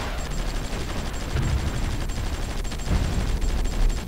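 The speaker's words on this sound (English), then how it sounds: "there's a lot of MLRS artillery rock missile units here" MLRS artillery rocket fire rumbles in the strategy video game Supreme Ruler 2020, a dense, continuous barrage of booms and crackling blasts layered over one another for the whole stretch.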